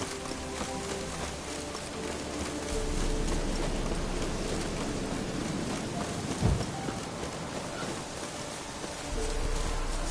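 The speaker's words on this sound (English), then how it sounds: "Looks like rain." Steady rain hisses across the whole clip, with a low rumble and a brief thump partway through.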